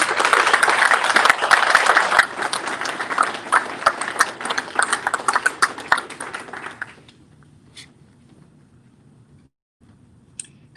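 Audience applause at a bill signing for the Virginia Values Act: dense, loud clapping for about seven seconds that thins out and drops to a quiet room with a few faint taps.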